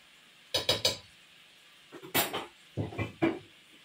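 A metal lid is set onto a cooking pot in a home kitchen, giving three quick clusters of clanks and clinks with short pauses between them, close and fairly crisp.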